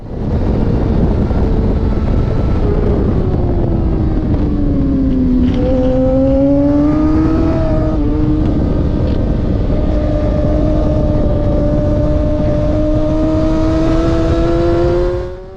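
Race car engine accelerating out of a turn: loud, continuous engine drone that dips in pitch and then climbs steadily as the car gets on the gas, with wind rush over the microphone throughout.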